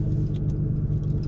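A Nissan GT-R idling while it warms up, a steady low engine rumble heard up close with no voices.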